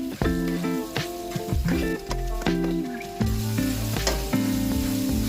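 Tomatoes fry in a pan for a bitter gourd (ampalaya) dish, a steady sizzle running underneath a prominent melodic music track throughout.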